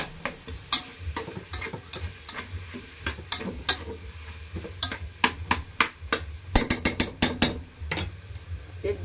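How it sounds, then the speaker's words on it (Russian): A spoon stirs pilaf with liver in a pot, giving irregular scraping knocks and clinks against the pot, closer and quicker toward the end, over a faint low sizzle. "Мешаем, размешиваем."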